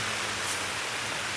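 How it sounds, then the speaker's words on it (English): Steady rain falling in the Alaskan mountains, a dense, even hiss that stays constant and close with no voices over it. "More rain."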